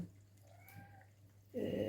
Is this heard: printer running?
no